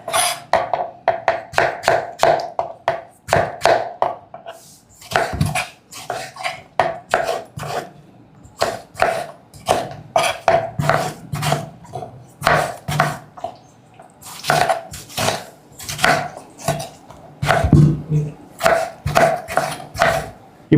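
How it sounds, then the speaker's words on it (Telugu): Two medium tomatoes chopped with a knife on a board, giving a steady run of close, crisp cutting taps in quick bursts with brief pauses. "ఇప్పుడు 2 మీడియం సైజు టమాటాలని కూడా కట్ చేసుకుందాం."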